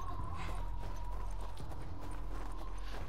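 Horse hooves clip-clop in a steady walking rhythm in The Last of Us, the hoofbeats fairly faint and even against a low background hum.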